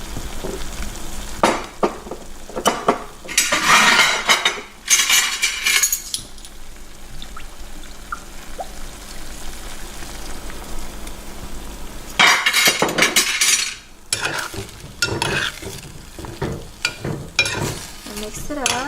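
Caramelized Vietnamese pork belly is stirred in a pan after fish sauce is added, giving bursts of scraping, sizzling agitation that alternate with quieter stretches of low frying, close and fairly loud.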